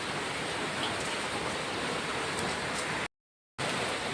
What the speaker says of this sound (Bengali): দেখো বৃষ্টি কিভাবে পড়ছে